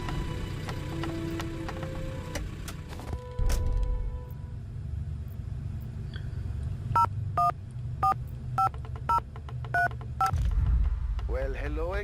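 Telephone number dialed in the Mystery Case Files: Dire Grove video game: a quick run of about eight distinct touch-tone beeps in an uneven rhythm, over quiet background music and low game ambience.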